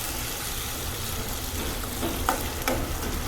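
Tomato paste and onion gravy sizzling steadily in a pan as it fries, a continuous close hiss with a couple of faint clinks of stirring and no voices.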